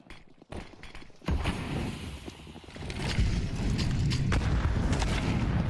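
A grenade goes off in a Counter-Strike esports grand final match, a sharp boom followed by a rising, sustained rumble of blast noise and game sound, with no talk over it.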